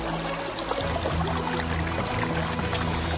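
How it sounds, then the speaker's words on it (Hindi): Well water rising upward by a fairy's magic in an animated story, a continuous loud flowing, gurgling water sound with a steady rushing texture. "परी के जादू से कुएं का पानी ऊपर परीलोक में जाने लगा"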